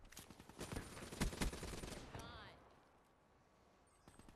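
Call of Duty Black Ops 3 multiplayer gunfire on the Combine map, a dense volley of shots in the first couple of seconds that fades to quiet, with faint game ambience after.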